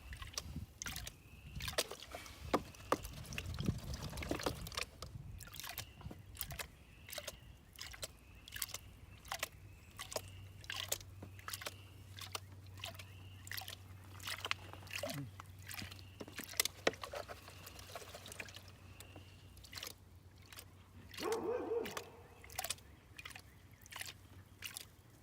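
Water sloshes and swirls in a gold pan while panning material from a mine, soft rhythmic splashes and trickles close by, repeating in gentle strokes at low volume.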